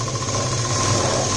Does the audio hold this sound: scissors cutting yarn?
no